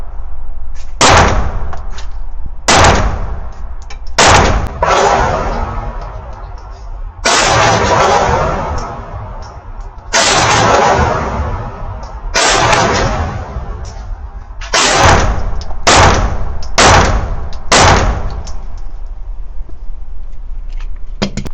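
Canik TTI Combat pistol fired outdoors in a string of about eleven loud, sharp gunshots, some spaced a couple of seconds apart and others in quick pairs near the end, each shot followed by a brief ringing echo.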